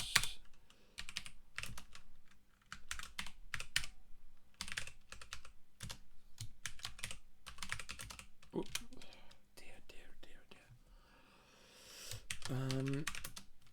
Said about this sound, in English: I'm not the best typer, but I'm even worse when it's a bit cramped like this.